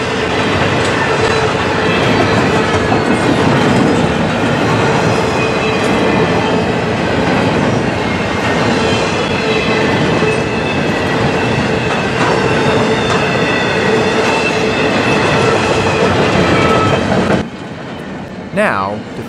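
A BNSF freight train rolls steadily past up close, led by ex-Santa Fe locomotive 687 in Warbonnet paint, its wheels clattering and rumbling loudly over the rails for the full length before the noise abruptly drops away near the end.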